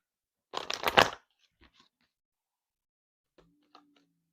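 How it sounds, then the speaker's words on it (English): Tarot cards riffled in one brisk, close shuffle lasting about half a second, followed by near silence broken by a few faint taps and ticks. "One more shuffle."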